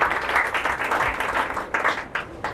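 A crowd of students at an inspirational talk breaks into a short, lively burst of clapping, dense and fairly close, rising and dipping slightly before fading.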